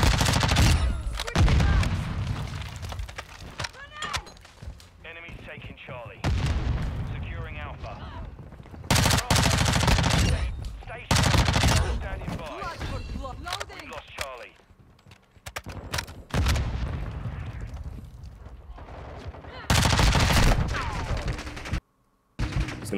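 Gunfire in a Call of Duty online match, bursts of rapid shots and explosive bangs coming in loud clusters with short gaps, mixed with game noise while players talk over it.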